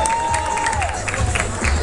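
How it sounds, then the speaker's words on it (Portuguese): An audience at an ExpoGeek convention applauding and cheering, with a dense, lively crowd roar and clapping close by and a whistle-like tone sliding down at the start. "Palmas pro cara."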